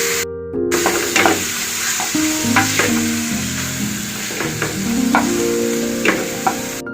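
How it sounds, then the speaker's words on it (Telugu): Mutton pieces hit hot oil with frying ginger and turmeric, giving a steady loud sizzle with clinks and stirring taps of a utensil in the pan. "ఈ అల్లం బాగా ఫ్రై అయిన తర్వాత దీంట్లో మనం కలుపుకున్న మటన్ వేస్తున్నాను"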